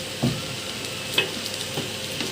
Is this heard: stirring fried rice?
yes